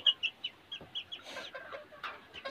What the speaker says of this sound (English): A turken